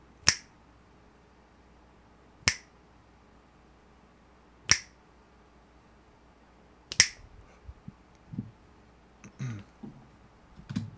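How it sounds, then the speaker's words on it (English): Four crisp finger snaps ring out alone at steady, spaced intervals, followed by a few softer clicks and light handling noises. "I want to get some finger snaps"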